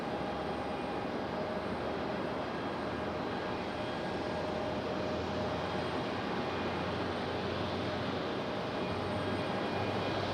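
Spirit Airlines Airbus A320 arriving at Raleigh-Durham airport, a steady broadband jet roar that holds loud and constant throughout, with a faint whine riding on top and no voices.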